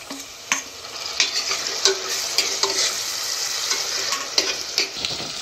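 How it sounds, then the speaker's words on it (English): Tomatoes frying in a pan for a mango mutton curry give a steady soft sizzle, with a spoon stirring and tapping against the pan at irregular intervals. "Now fry it for 2 minutes."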